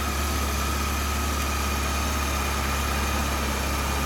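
A 2012 European-spec Suzuki GSX1300R Hayabusa fitted with a Yoshimura exhaust idles close by, a loud, steady, even engine drone throughout with no speech.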